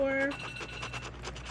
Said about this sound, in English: That was the wife's alarm for the night.